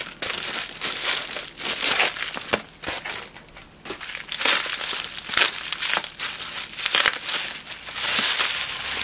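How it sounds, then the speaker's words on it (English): Packing tape being pulled and torn while opening mail parcels, continuous loud crinkling and crackling with sharp ripping bursts throughout. "Struggling with tape again."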